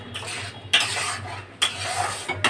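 Onions are stirred and fried in a pan, with three distinct scraping strokes of a utensil over a steady low hum and faint sizzle.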